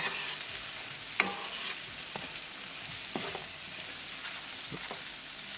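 Mushrooms fry in garlic butter and olive oil in a pan, a steady close sizzle with a few scattered stirring clicks and scrapes from a utensil, heard alone without talk.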